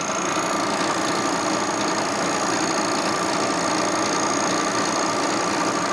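A machine cuts a 1957 Harley-Davidson panhead cylinder head at just under 1500 RPM, giving a steady, even whirring drone with a faint high whine that runs unbroken and at constant loudness.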